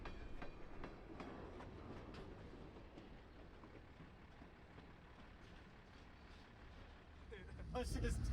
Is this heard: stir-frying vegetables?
no